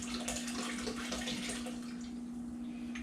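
Water runs steadily while an extract bottle is rinsed during sanitizing, a soft continuous splashing and trickling with a faint steady hum beneath it.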